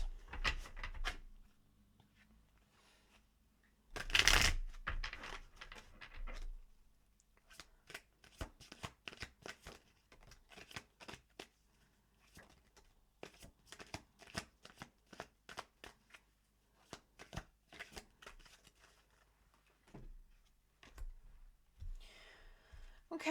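Tarot cards are shuffled by hand at close range, soft riffling and patting in irregular bursts with pauses, a louder flurry near the start, quiet and intimate.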